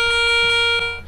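Steady electronic beep from an MD 6350 metal detector responding to a 1924 five-kopeck coin, a bright sustained harmonic tone lasting about a second, loud and close with no speech.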